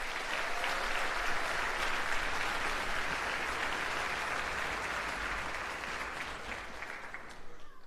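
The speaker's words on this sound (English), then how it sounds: "So give yourselves a round of applause." Sustained applause from a concert audience at an all-county orchestra performance fills the hall, broad and even throughout before thinning slightly toward the end.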